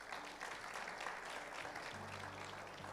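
Congregation applauding in a church service, a dense steady wash of many hands clapping throughout, with a sustained low tonal hum of instruments underneath in the latter part.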